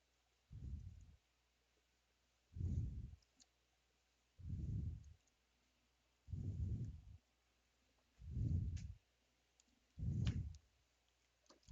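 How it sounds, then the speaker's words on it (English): Sleeved Magic: The Gathering cards are shuffled in six evenly spaced riffles, each a short soft burst of clicking with quiet pauses between, close and alone. "They shuffle really easy."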